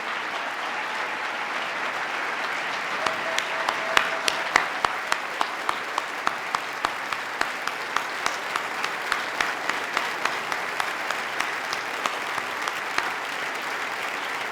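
An audience applauds police and first responders at a governor's 2018 agenda address, with sustained, dense clapping from a large crowd that rises in the first seconds and then holds steady throughout.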